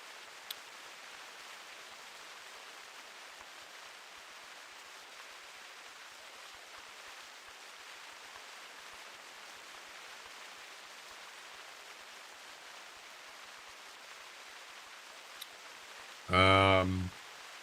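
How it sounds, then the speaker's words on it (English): Soft, steady rain falls in the hunting video game theHunter Classic, a faint, even hiss throughout, with a short burst of voice near the end. "And it's raining again."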